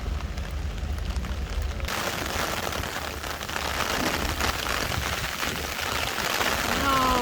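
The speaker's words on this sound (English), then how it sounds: "It started raining hard." Heavy rain pours down on a street in Istanbul, a steady dense hiss that swells louder partway through and holds as a continuous wash of drops.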